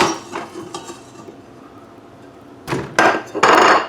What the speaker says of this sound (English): We have that 1 pound of sausage right here that's going in the pot.